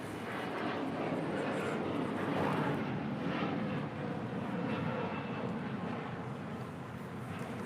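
An Airbus A330-300 on its takeoff roll at LAX, a steady, distant broadband jet roar holding level throughout, with no talk over it.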